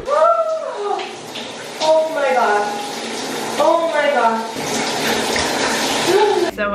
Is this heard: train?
no